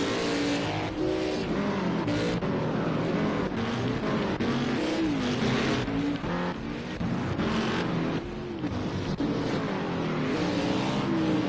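Race cars roar around a racetrack during a Mtn Dew Zero 55 event in Kern County, with loud, continuous engine revving, repeated passes and tire skids filling the whole stretch.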